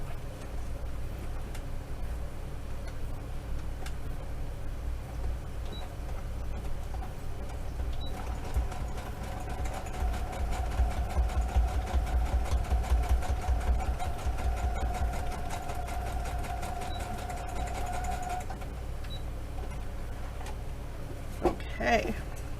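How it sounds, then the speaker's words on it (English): A sewing machine stitches through a paper journal page with a steady, close mechanical whir and rapid needle ticking that swells for several seconds in the middle before settling back to a low hum. "I'm gonna go zip along that with the sewing machine over here"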